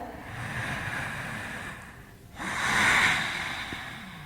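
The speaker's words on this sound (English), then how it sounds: "A few more breaths here. The last breath." Slow, deep breathing held in a yoga pose, close and fairly quiet, with a steady airy rush, a brief pause partway, then a fuller exhale swelling up before easing off.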